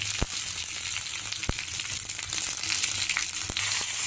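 Curry leaves and split green chillies frying in hot oil give a loud, dense, continuous sizzle and spatter, with a few sharp crackling pops scattered through it.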